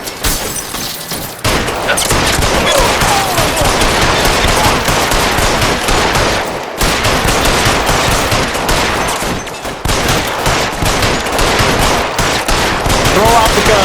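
Loud, sustained gunfire fills a shootout in L.A. Noire during the Nicholson Electroplating case, with dense rapid bursts of automatic fire and single shots overlapping almost nonstop. Only brief lulls break it, near the start and midway.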